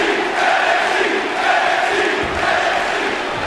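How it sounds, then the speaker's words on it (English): Video game crowd chanting in an arena during a WWE 2K19 wrestling match, a steady loud roar of many voices with rhythmic swells, continuous and unbroken with no commentary over it. "And this crowd chanting NXT because there is no place you'd rather be"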